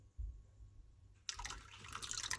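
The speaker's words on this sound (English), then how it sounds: "Gonna add a little bit more water." Water poured from a tap into a cup while making a deviled egg sandwich: a faint low trickle at first, then a brighter, steady splashing pour for the last second or so, close by with no talk.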